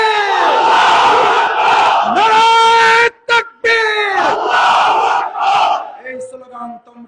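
Large crowd at a Bangladeshi political rally chanting the Naraye Takbir slogan, loud unison shouts in call-and-response bursts with a brief gap midway and fading calls at the end.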